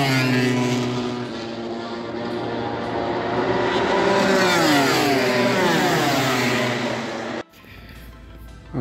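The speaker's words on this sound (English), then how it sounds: "I'm going to let you guys hear how loud these bikes actually are" MotoGP racing motorcycles scream past at the Qatar circuit, loud high-pitched engines rising and falling in pitch as they sweep by, ending in a sudden cut to quieter ambience.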